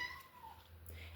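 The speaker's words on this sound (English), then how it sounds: "that's my cat meowing in the background" A domestic cat meows softly in the background, a couple of faint brief calls in a quiet room with low hum beneath.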